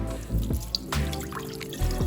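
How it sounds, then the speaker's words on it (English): Brown rice rinsed under a cold running kitchen tap, water splashing and trickling steadily with a few brief drips and clinks, close and moderately loud. "always make sure to rinse the rice well under cold running water"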